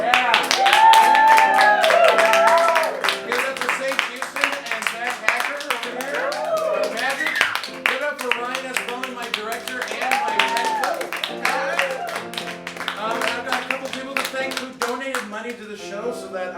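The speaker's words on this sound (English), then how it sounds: "everyone give a round of applause" An audience at a live improv comedy show claps, loud at first and then settling into scattered, uneven clapping while a person keeps talking over it throughout.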